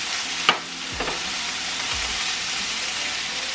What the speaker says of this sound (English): I'm going to grab my shredded mozzarella and throw it in the pan.